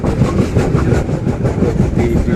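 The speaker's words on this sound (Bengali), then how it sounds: "একটা বড় রেল ব্রিজ, সম্ভবত তাওয়াই নদী।" The Malwa Express crosses a large rail bridge over the Tawi river, a loud close rumble of wheels with a steady rhythmic clatter running throughout and no talk.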